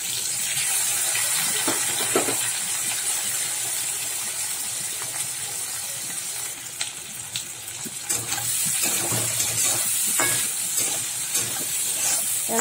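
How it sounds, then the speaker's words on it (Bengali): Prawns frying in hot oil that was just used for ridge gourd, a continuous close hissing sizzle with occasional pops and soft spatula knocks, no talking. "আমি ওই তেলের মধ্যে চিংড়ি মাছগুলো ভেজে নেবো।"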